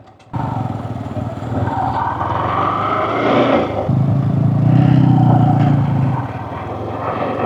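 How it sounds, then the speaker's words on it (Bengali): A motorcycle engine drones steadily throughout, rising and falling slightly as the bike rides over a bumpy Jamuna riverbank, close and fairly loud. "নদীর পাড়ে বাইকিং একটু জার্কি জার্কি মানে ঝাঁকুনি হয়"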